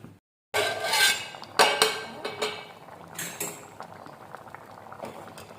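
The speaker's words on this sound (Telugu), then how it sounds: "మూత పెట్టి ఉడికించుకుందాం." A covered pot of cucumber dal with tomatoes cooking on the stove gives off a steady bubbling simmer, with a few sharp clinks of a metal lid and utensil near the start.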